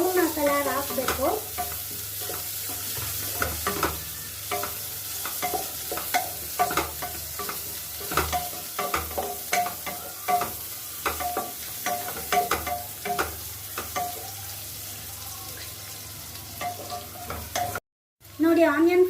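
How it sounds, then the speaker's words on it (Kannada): Onions sizzle and crackle in 50 ml of oil in a pan for palak paneer, a steady close frying hiss broken by repeated scrapes and clicks of stirring, with a brief dropout near the end. "ನನ್ನ ಪಾನ್ಗೆ 50 ml ಆಯಿಲ್ ಹಾಕ್ಕೊಂಡು ಈರುಳ್ಳಿ ಹಾಕ್ಕೊಂಡಿದ್ದೀನಿ. ಇದೊಂದು 3 ಮಿನಿಟ್ಸ್ ಫ್ರೈ ಮಾಡ್ಕೊಳ್ಳೋಣ."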